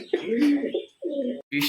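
Pigeons, among them young birds wet from rain, give low, throaty coos in short bursts close by, with brief pauses between calls.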